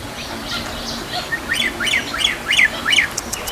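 An albino buffalo myna gives a series of sharp, repeated chirping calls over a noisy background, several short notes in a steady rhythm, fairly close.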